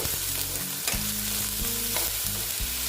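Tilapia sizzling loudly in a pan, with repeated scraping knocks of a spatula stirring it; no one speaks.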